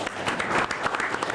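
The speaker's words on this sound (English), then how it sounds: "So y'all give them a round of applause." Brief, fairly loud applause from a studio audience on a local sports talk show, a dense burst of clapping lasting just over a second.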